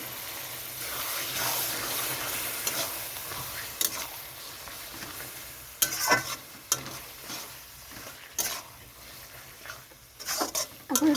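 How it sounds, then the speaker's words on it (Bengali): Reserved chicken boiling water is poured a little at a time into a hot pan of stir-frying chicken, producing a continuous close sizzle and hiss with intermittent clatters and scraping stirs. "এটা কষানোর জন্য সিদ্ধ করে রাখা চিকেনের জলটা দিয়ে দিচ্ছি অল্প করে।"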